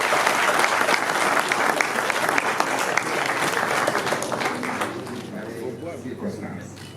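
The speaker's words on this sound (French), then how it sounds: "Sous vos applaudissements, s'il vous plaît." Sustained audience applause fills an assembly hall at a UN resolutions event, dense and steady for several seconds before slowly thinning, with a voice speaking over the clapping.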